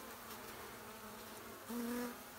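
Honey bees from a hive hidden in a brick wall in Hurley, Mississippi, buzz in a steady faint drone, with one nearer bee passing close toward the end.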